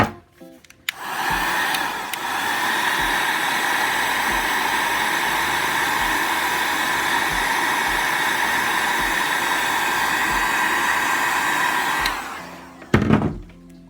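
A hot air blower roars steadily for about eleven seconds while heating glue on vinyl wrap material, loud and close, switching on with a click and cutting off near the end before a few soft handling knocks.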